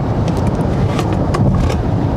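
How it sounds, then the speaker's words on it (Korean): A Genesis GV60 Performance AWD electric SUV surges forward in boost mode, heard from inside as a loud, steady rush of road and wind noise without a distinct motor note. "여기서 한번 부스트 모드까지도 작동을 시켜보고 가속을 해보죠"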